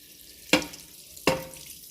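Hot caramel for flan being poured into a glass pan, giving two sharp crackling bursts about three quarters of a second apart over a quiet background.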